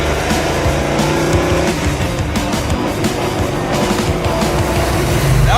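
A vintage circle-track Dodge Charger race car driving hard, engine roaring loudly up close while the tires squeal and skid continuously, with no voices.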